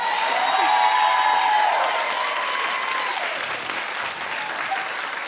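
Large festival crowd at Coachella clapping and cheering, a dense roar of applause that swells early and then eases slightly, with whoops and a sustained tone rising above the crowd.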